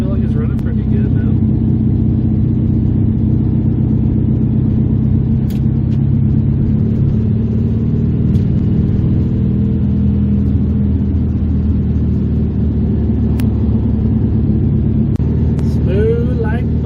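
A Volkswagen Beetle engine, freshly tuned, running smoothly as the car rolls along, giving a loud, constant low rumble with slight rising revs, while people talk over it throughout.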